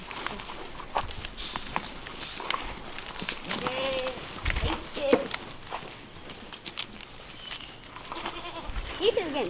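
Goats on a farm bleat now and then amid busy outdoor bustle, with hoof clatter, rustling and handling noises close by, while people talk nearby.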